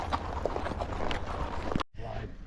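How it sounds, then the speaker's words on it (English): Horses walking down a lane toward a driveway, their hooves clip-clopping in a steady, close rhythm while people talk over them, before a brief dropout. "we are putting the horses away"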